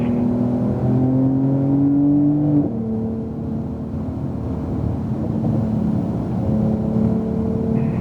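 A Porsche 911 Turbo S accelerating down a racetrack backstretch, its engine note climbing steadily in pitch with a brief dip at a gear change, loud and close throughout with no talk.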